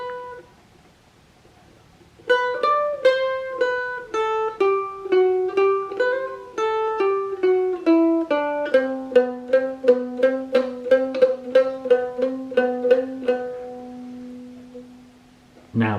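A mandolin plays the second part of Whiskey in the Jar, a run of bright picked notes with hammer-ons and pull-offs, steady and close, ending on a held low note.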